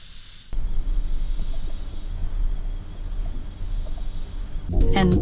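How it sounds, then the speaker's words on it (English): Steady broadband hiss of shot noise from a photodiode lit by a light, a constant noise floor carrying on alone for several seconds before a short clatter at the end. "It is called short noise, and it is caused by the randomness of photons that are hitting the detector."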